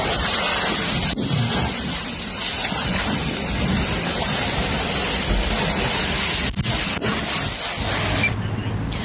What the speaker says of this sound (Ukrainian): Вода пошла.